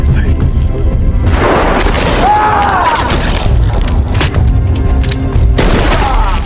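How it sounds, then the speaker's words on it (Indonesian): Sniper gunfire in a film rings out as heavy booming shots amid loud cinematic sound, with a few sharp reports over dense rumble and a narrator's voice talking over it. "Ada yang menembak entah dari mana"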